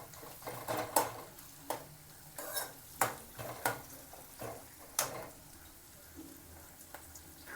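Kitchen pan where onions soften in a little oil for paneer pepper dry fry, with a spoon scraping and knocking against the pan in irregular taps over a soft sizzle, quiet and close.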